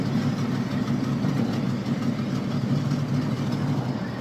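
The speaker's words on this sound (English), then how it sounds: "Barely touching the throttle and it just wants to go." The engine of a 1977 Pontiac Firebird with a slight misfire runs close by as a steady, deep rumble with little change in pitch.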